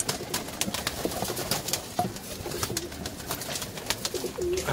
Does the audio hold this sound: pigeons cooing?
yes